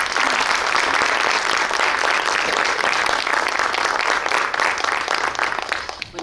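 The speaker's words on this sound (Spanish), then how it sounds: "Un fuerte aplauso para ella." An audience at a literary café in Fuenlabrada gives author Care Santos a sustained round of applause, dense and steady clapping for about six seconds before tapering off at the end.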